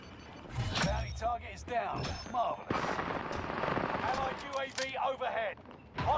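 Bursts of video game gunfire crack in rapid, irregular volleys during a firefight, loud and close, with scattered shots layered over background game sounds.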